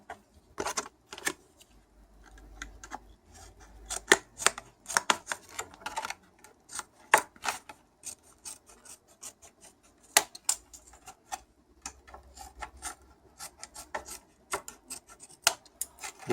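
A shaped piece for a bicycle rain cover is cut to fit the frame's C-post, giving quiet, irregular snips and rasping cuts at close range with short pauses between strokes.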